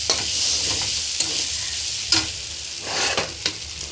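Masala spice paste sizzles in a pan while it is stirred, a steady close hiss broken by scraping strokes of the spoon, with no voices.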